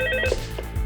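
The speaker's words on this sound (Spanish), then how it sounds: "suena un celular" A mobile phone rings in an anime scene, a short burst of electronic ringing tone that is close and clear.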